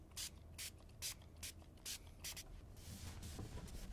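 Guitar cleaner sprayed from a pump bottle onto a cloth for a satin-finish Taylor GS Mini, with about seven short hissing spritzes in a steady rhythm, close and fairly loud, followed by softer rubbing.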